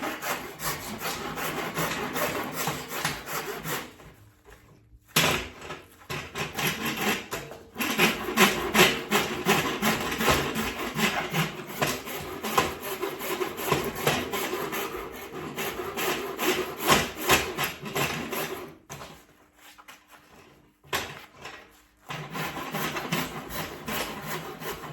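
Steady rasping of wood while shaping an Irish walking stick by hand, a continuous scraping rhythm of repeated strokes close up and loud, with a few brief pauses between bursts and no talking.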